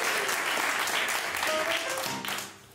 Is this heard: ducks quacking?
no